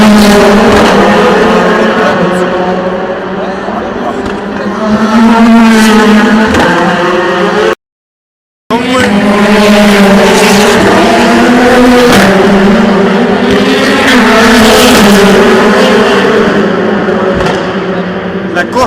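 Race cars at the 24 Hours of Le Mans 2016, loud engines revving and rising in pitch, with a brief silent break partway through, followed by more roaring passes as a voice talks over them.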